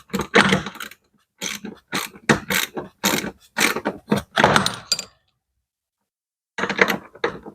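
Wrench tightening a solar panel mounting bolt on an RV motorhome roof gives a series of short, sharp ratcheting clicks in quick bursts with brief pauses, close and clear.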